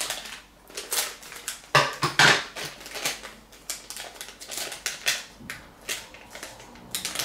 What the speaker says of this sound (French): Si j'arrive à ouvrir ce putain de paquet de...